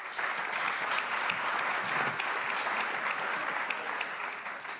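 A conference audience applauds a bank executive being welcomed on stage, a steady, dense wash of many hands clapping at moderate distance that holds throughout and eases slightly at the end.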